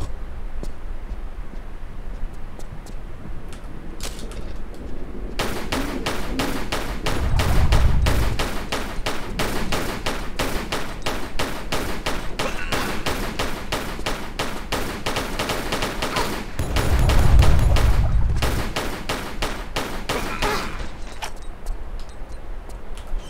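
A fixed machine gun turret in a Tomb Raider custom level fires long, rapid, evenly spaced bursts of loud shots, broken by short pauses and a couple of heavier low thumps.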